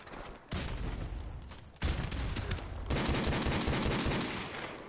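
Gunfire rattles in the video game Modern Warfare Remastered, rapid automatic bursts in three loud, close stretches separated by brief pauses.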